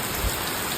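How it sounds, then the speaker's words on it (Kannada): First rain of the year falling on a village, a steady broadband hiss of rainfall with no voices, continuous and fairly even over a brief moment. "ಫೈನಲಿ ಈ ವರ್ಷದ ಮೊದಲ ಮಳೆ ಬಂತು ಅಂತಾಯಿತು"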